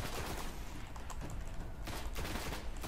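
Dense gunfire close by in the Destiny shooter, a continuous crackle of rapid shots with brief bursts standing out over a noisy battle bed.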